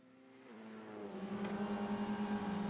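TCR touring race cars on a circuit, engine note building from a low hum into a loud, sustained, rising drone as a car accelerates closer.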